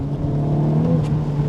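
A Honda Civic Type R FK8 or FL5 in Plus R mode drones loudly with a steady engine tone boosted by artificial engine sound, a smooth sustained hum heard from inside the cabin without talk.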